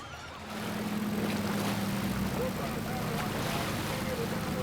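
A seaplane flies from Vancouver's harbour toward Salt Spring Island, its engine rising into a loud, steady, rushing roar that fills the cabin while a person talks over it.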